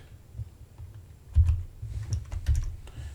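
Code typed on a computer keyboard for an ESP32 MicroPython IoT project: close, quick bursts of key clicks with a few louder thumps, irregular rhythm, no talking.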